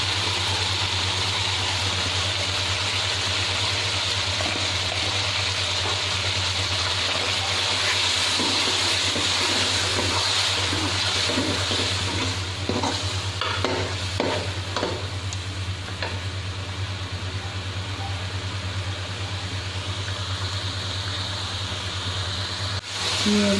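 Chicken karahi with yogurt sizzling and frying steadily in a pan, with occasional stirring scrapes over a constant low hum, loud and close throughout without talk.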